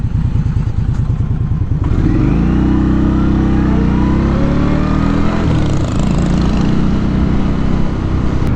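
A 2020 Indian Scout Bobber Twenty motorcycle rumbles along a rough street, its engine droning loud and close as the pitch rises and falls, with faint clattering bumps mixed in and no talking.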